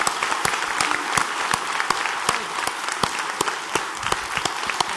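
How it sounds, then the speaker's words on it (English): Steady, full audience applause rings out at a closing ceremony for the conference speakers, many hands clapping evenly throughout with a few sharper nearby claps standing out. "Let's give them a great round of applause."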